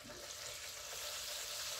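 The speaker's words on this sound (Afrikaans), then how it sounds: "Ons braai hulle gou 'n minuut of 2 aan die ander kant" Meatballs frying in a pan on a stovetop, a steady close crackling sizzle that holds evenly and continuously throughout.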